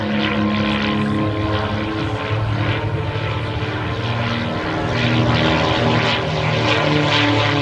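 De Havilland Mosquito, a twin-engine propeller aircraft from 1941, flying at an air display, its engines a loud, continuous droning roar that swells slightly toward the end, with no voices.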